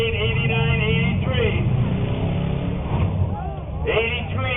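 Demolition derby cars at a county fair rev and grind through a continuous engine roar, with an announcer talking loudly over the action.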